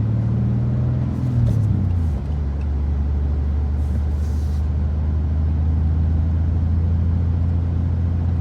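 Low steady engine drone from inside a 2024 BMW M2 with manual transmission on a short drive, with a rev change early on, then a constant deep hum and road rumble; no talking.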